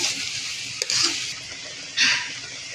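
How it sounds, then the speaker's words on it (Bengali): Masala for a chicken curry is sautéed in a pan, giving a bright, close sizzle that swells in two bursts as a spoon stirs and scrapes through it, with no one speaking. "এবার মশলাটাকে খানিকক্ষণ কষিয়ে নেব।"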